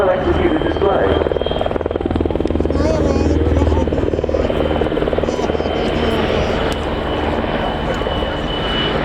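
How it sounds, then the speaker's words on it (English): Czech Air Force W-3A Sokol helicopters of the 243rd Helicopter Squadron perform a display at the RIAT airshow, their rotors thudding in a steady, loud chop with a turbine whine throughout, while people talk beneath. "W3A Sokols of the 243rd Helicopter Squadron of the Czech Air Force."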